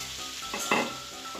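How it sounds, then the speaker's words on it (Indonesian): Ground spice paste sautéing in a hot pan gives a steady, close sizzle, with a brief louder burst of frying and scraping as it is stirred. "Tumis bumbunya sampai harum"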